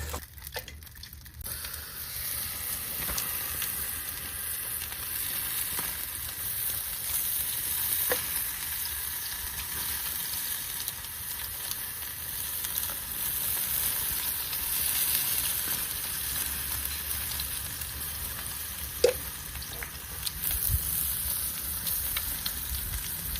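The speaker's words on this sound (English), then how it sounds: "Skin down on top of these coals right here. Hopefully we get a nice char and the skin boils up for us." Barbecue skin sizzling face-down over hot coals, a long, steady, moderately quiet crackle and hiss with a couple of sharp pops.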